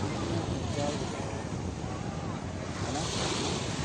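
Sea waves wash onto a beach in Abu Dhabi or Dubai, making a steady broadband roar with wind buffeting the microphone throughout.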